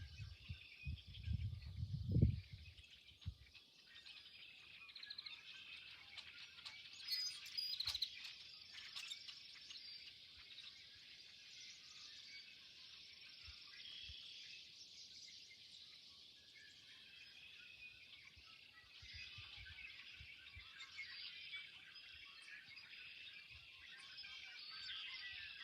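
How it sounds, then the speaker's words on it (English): Garden ambience on a spring day in which a steady high chirping of small birds or insects carries on throughout, faint and constant, with a few soft knocks near the start and no talking. "I'm hoping you can hear that. The birds are just"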